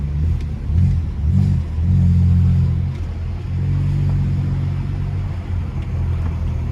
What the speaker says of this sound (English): But this car sounds too nice